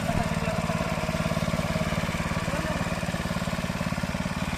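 An old power tiller engine running near a muddy farm field, a loud, close, steady single-cylinder chug with a fast even rhythm throughout.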